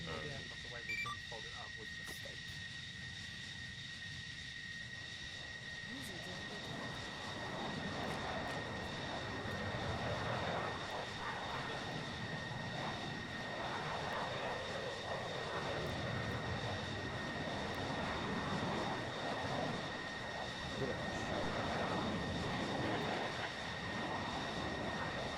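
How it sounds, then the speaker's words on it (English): A fixed-wing airplane's engine roar builds from a faint drone to a sustained, loud rumble as it takes off, with a steady high tone over it. Radio chatter and voices are heard throughout. "This is tower to the plane that just took off."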